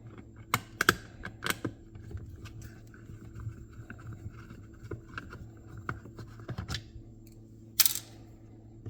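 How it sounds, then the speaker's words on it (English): Screws are backed out of the base of a Shark Hydrovac vacuum with sharp, close clicks and ticks of the driver and plastic, scattered irregularly over a quiet background. "we're going to take these last two screws out up here on top"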